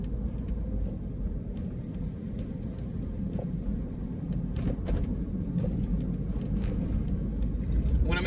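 A car rolls forward through city streets at 13th and Locust, a steady low rumble of engine and road noise filling the cabin, with occasional faint clicks and knocks over it.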